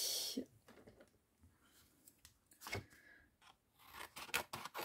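Scissors snip through a sheet of butterfly rubber stamps in a few short, crisp cuts separated by quiet pauses, close and fairly soft, with no talking.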